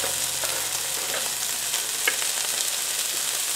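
Borlotti beans, already boiled, frying with celery in a pan, giving a steady close sizzle with light stirring and scraping throughout and a few small pops, no voices.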